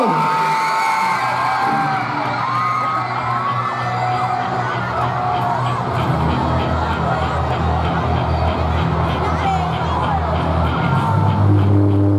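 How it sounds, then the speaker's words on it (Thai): A large crowd at a school concert roars with screams and whoops, a continuous loud wall of cheering that swells slightly toward the end. "ขอเสียงกรี๊ดต้อนรับมาตั้งหน่อยเลย"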